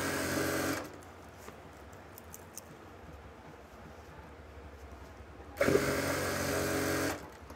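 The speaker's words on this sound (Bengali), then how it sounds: "তো দেখেন এই যে এইভাবে আমরা সেলাইটা দেব।" A sewing machine runs in two short bursts of rapid, even stitching along a skirt's elastic waistband, with a quiet pause between them in which faint handling noises are heard.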